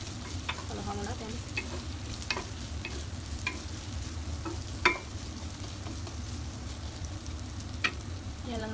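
Onions fry in a pan for Hayashi rice as a spoon stirs them, a continuous low sizzle punctuated by regular scraping and tapping of the utensil, with no talking.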